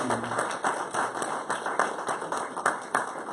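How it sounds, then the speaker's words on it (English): Scattered audience hand-clapping at a live talk, sparse and fairly faint, with uneven individual claps rather than a full ovation. "I want to give Dr. Naila a great hand of applause"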